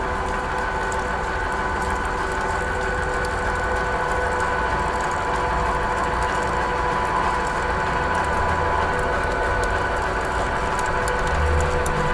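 A Ridgid 1224 threading machine cutting pipe threads gives off a steady, close mechanical drone with a constant motor hum and grinding texture that barely changes throughout, with no one talking.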